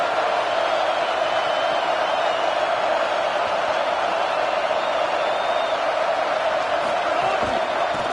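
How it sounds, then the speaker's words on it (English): Crowd noise roars steadily throughout an American football video game stadium, a dense, loud, continuous wash of cheering with no breaks. "this crowd is fired up. Listen to this noise here."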